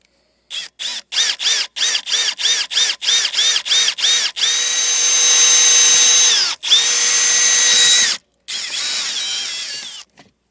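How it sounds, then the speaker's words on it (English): A power drill with a 3/8 bit whirs loudly in a rapid run of short bursts, drilling a hole, then holds longer sustained spins before stopping and restarting briefly. "we're going to use a 3/8 drill bit for the larger hole"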